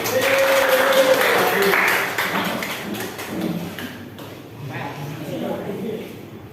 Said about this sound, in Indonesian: Kasih tepuk tangan.